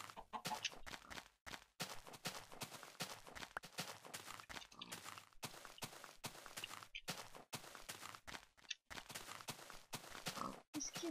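Chickens cluck in Minecraft in short, repeated bursts, fairly faint, with occasional footstep-like taps between them.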